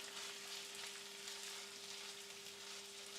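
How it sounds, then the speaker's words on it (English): Food fries in a pan late at night, a continuous bright sizzle with crackling texture at a steady level, alone and without talk. "once it starts sticking like this, I kind of feel now it's getting ready, because of course we don't want to over fry it"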